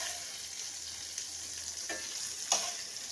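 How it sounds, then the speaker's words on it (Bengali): Paneer frying lightly in a pan, a soft, steady sizzle with a few brief stirring clicks and one sharper scrape near the end, without speech. "খুব হালকাভাবে পনিরগুলো ভাজবো"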